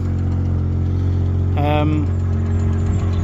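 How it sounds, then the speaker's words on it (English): Rover 800 Sterling coupe with a 2.5 KV6 engine idling steadily, its failing rear silencer giving a deep continuous drone, with a brief higher whine partway through. "As you can hear, the rear silencer's going"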